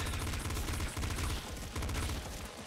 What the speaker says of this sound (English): Shotgun shot, you know what I mean, explosive shot.